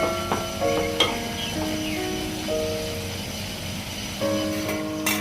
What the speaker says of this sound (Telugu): వావ్, చక్కగా ఉడుకుతుంది